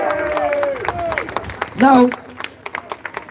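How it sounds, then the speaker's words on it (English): Scattered clapping and a brief cheer rise from a protest crowd at an anti digital ID demonstration on Downing Street, mixed with someone speaking over a microphone. "Everyone, give yourself a round of applause."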